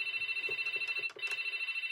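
Phone ringing noise from a 2006 VTech Grow and Go ride-on toy: a rapid electronic trill warbles continuously, fairly quiet, with one brief dip midway and no voices.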